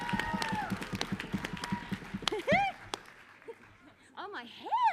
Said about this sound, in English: a round of applause for the cows and chickens